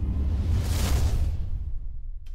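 Video game outro stinger sound effect built in Fmod: a single swelling whoosh that rises, peaks briefly and fades out over about two seconds, heard alone with no talk.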